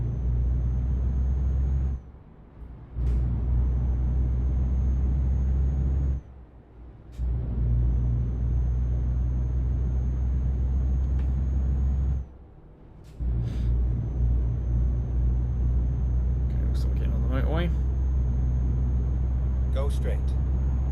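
A truck's engine drones as a low, steady rumble in Euro Truck Simulator 2, with a struggling gearbox cutting the sound out during gear changes; someone talks over it throughout.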